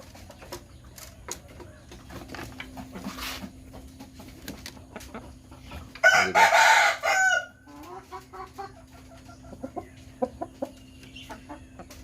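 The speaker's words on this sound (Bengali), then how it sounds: "দেখেন মোরগের অবস্থা দেখেন" Hill-breed roosters on a chicken farm in the early morning cluck softly and scattered. About midway, one loud, close crow rings out for a couple of seconds before the quieter clucking resumes.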